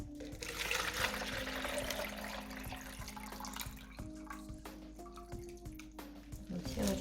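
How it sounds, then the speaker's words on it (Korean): Water runs steadily into a container for growing water parsley (minari), a continuous close trickle and splash with small drips, no talking. "물을 채워줍니다."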